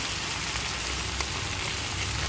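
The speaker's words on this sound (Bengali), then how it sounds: "মাছ ভাজা হয়ে আসছে, আমি এখন দিয়ে দেব।" Hilsa fish pieces frying in hot oil in a pan, a steady, even sizzle with soft crackling running throughout.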